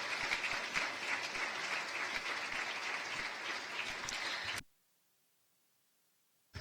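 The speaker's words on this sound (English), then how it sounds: "For them, I would like to request a great applause." Steady, dense audience applause after a concluding keynote address, loud and sustained for several seconds before cutting off abruptly into silence.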